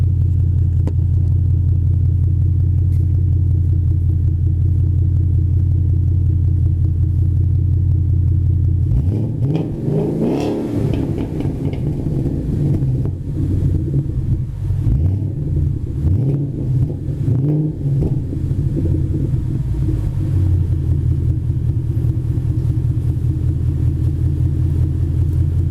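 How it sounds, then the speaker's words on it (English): A Ford Mustang with an SCT X3 tune idles with a deep rumble outside, then revs up hard several times in loud surging bursts before settling back to idle. "I'll give y'all a rev up or two."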